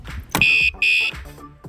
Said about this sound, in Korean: 다음 충격에서는 연속으로 알람이 울리게 됩니다.